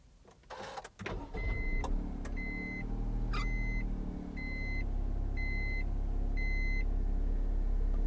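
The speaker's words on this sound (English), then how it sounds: "It's beeping because I haven't got my seatbelt on." A 2012 Honda N-Box Custom starting up, with a low engine idle rumbling steadily and a seatbelt warning chime beeping in a regular repeating pattern above it, close and clear.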